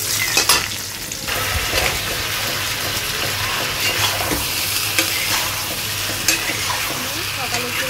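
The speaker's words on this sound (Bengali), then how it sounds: "ধুন্দল দিয়ে মাছ তরকারি রান্না করবো আমি এখন।" Fish curry with ridge gourd frying and being stirred in a pan, a dense steady sizzle with scraping and clinks of the utensil, close and continuous.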